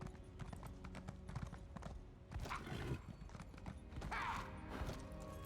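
Horse hooves clip-clop steadily in the video game Elder Scrolls Online, set in the Greymoor area, under a busy game soundscape. A whinny-like sound rises around the middle, and no talk is heard.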